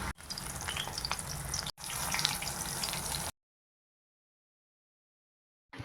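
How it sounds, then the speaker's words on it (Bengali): Potatoes and beetroot frying in hot oil, a steady close sizzle broken by a brief gap, then ending in silence for the last few seconds. "আলুগুলো ভাজা হয়ে গেছে, এবার ভালো করে লাল লাল করে ভেজে তুলে নেব, আর পর ভাজতে থাকবো।"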